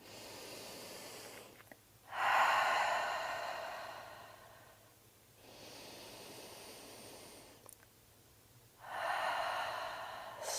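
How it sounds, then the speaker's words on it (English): During chair yoga, slow audible breaths come in long airy swells, loud near the start and again at the end, separated by quiet pauses. "Breathing in."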